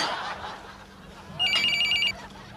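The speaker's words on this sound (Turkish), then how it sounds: "Telefon. Acı acı çalar." Quiet room noise, then a telephone bell rings loudly in one rapid trilling burst lasting about half a second before cutting off.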